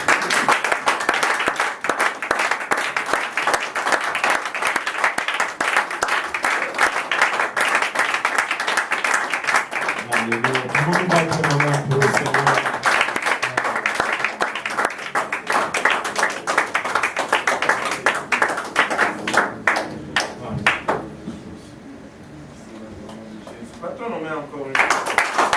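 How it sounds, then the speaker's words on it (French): A worship congregation claps hands together in steady rhythm, loud and continuous throughout, mixed with singing and voices; the clapping thins briefly near the end before resuming. "Acclamons nos mains vers le Seigneur."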